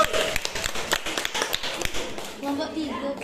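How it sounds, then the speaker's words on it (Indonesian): Classmates in a school classroom clap for group 2 after a presentation on Islamic law, a brief burst of scattered applause with a speaking voice running over it. "tepuk tangan untuk kelompok 2"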